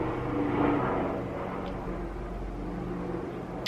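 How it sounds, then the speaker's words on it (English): Airplane flying overhead near a beach, a steady broad low engine roar that swells slightly early on then holds as a continuous distant drone, with no talking. "Apologies about plane noises."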